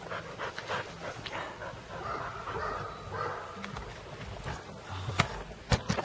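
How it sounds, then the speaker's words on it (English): A dog barks intermittently in the background, faint and distant, with scattered yips and a few sharper barks near the end over an outdoor ambient rumble. "I hear Duffy barking in the background."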